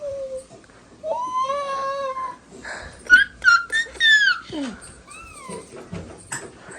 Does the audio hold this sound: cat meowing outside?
yes